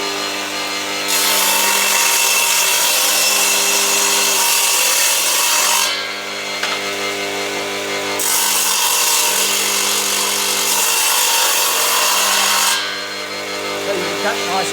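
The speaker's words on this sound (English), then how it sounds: "I'm going to cut a groove in this piece of timber." An Elu TGS 172 combination saw cuts a groove in timber, its blade biting in loud, close passes with a bright rasping whine, easing briefly around six and thirteen seconds between cuts over a steady motor drone.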